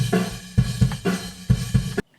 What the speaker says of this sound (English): Then I have my Ludwig 24-inch bass, John Bonham style bass drum in front